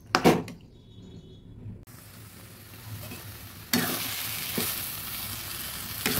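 Mashed banana stem being stirred and dried out in a hot pan, with bursts of scraping and sizzling that return louder after a brief lull, close and without talk.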